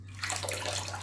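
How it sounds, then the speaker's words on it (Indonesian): Flour-coated chicken pieces for karaage dipped into a bowl of water, giving a short close splash and swish of liquid with a low steady hum beneath, no talking. "setelah gini kita celupkan ke dalam air seperti ini"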